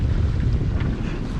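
Steady wind rushing past a sailboat under full sail on the open ocean, a continuous loud buffeting roar with low rumble and faint water wash throughout, no voices.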